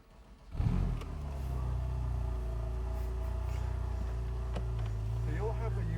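The engine of a naturally aspirated Porsche 911 991.1 Carrera 4S cranks and fires with a sharp flare, then settles into a deep, steady idle, close and clear.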